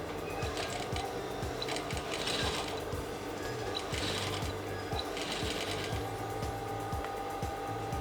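A sewing machine stitches a dart along a marked line on a white sutana garment. It gives a continuous, rapid mechanical whirring with a steady rhythmic clatter throughout, close and uninterrupted.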